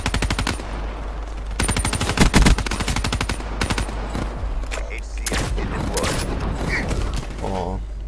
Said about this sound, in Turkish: direkt sniper'la vuramayınca yakına geçen adam da hemen silah değiştirip ağır makinalıyla yapıyor olmak